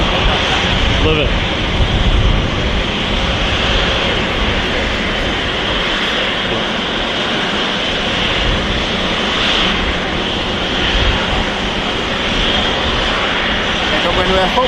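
An airliner departing Manchester Airport gives a steady, broad jet roar that fills the whole stretch without breaking, with wind noise mixed in and voices audible underneath.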